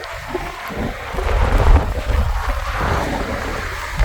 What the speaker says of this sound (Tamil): காற்று அடிக்குது நீங்கள் பாருங்கள்